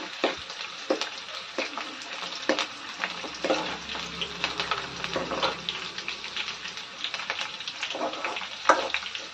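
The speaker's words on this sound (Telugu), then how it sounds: "ఎర్రగడ్డలు మొత్తం ఇలా లైట్ బ్రౌన్ కలర్ రావాలండి. అంతవరకు బాగా ఫ్రై చేసుకుందాము నూనెలో." Onions frying in oil in a pan until light brown for a brinjal masala curry, a steady close sizzle with frequent sharp crackles and the scrape of stirring, with no talk.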